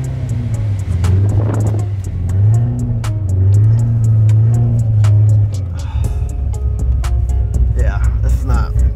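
A Corvette Z06 on an icy road revs in loud rising and falling engine surges as the wheels slip, with a voice talking over it close by.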